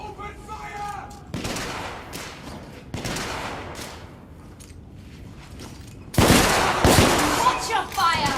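Gunfire in The Order: 1886 after intruders are spotted, with repeated rifle and automatic bursts in rapid volleys. It is loud and close and grows heavier toward the end, with shouted voices mixed in.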